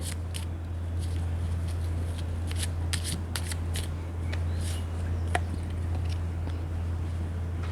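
Playing cards shuffled for a love-language card reading, a soft continuous riffling with sharper snaps scattered across, close and quiet over a low steady hum.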